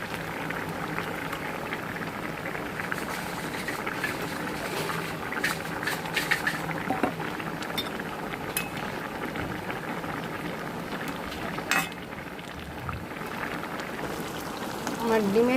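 Egg curry gravy bubbles and simmers in a pan with eggs added, giving a steady close bubbling and hissing texture, with scattered light clinks and a few brief sounds near the end.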